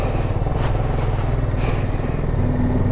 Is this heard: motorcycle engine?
yes